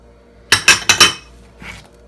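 A spoon clinks against a bowl while fruit chaat with dates, almonds and chaat masala is mixed: four quick, sharp taps close together, then a softer scrape after a short pause.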